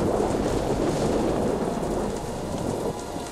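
Steady heavy rain pours in a storm in Jurassic Park: The Game, a dense unbroken wash of loud rainfall with a low rumble beneath, no voices.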